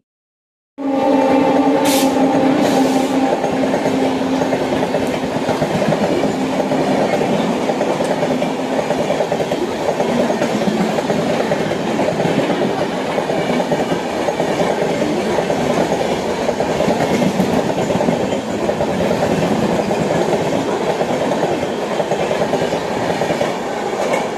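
A train pulls in continuously at an Indian railway station's platform 1, with loud, steady rumbling and wheel clatter throughout, a brief high squeal near the start, and no speech.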